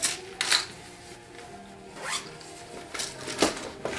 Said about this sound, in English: zip this up. Close it up.